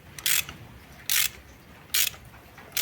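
A ratchet tightens spark plugs on an Alfa Romeo 147 Twin Spark engine, giving four short, crisp bursts of clicking spaced about a second apart, close and fairly loud against a quiet background.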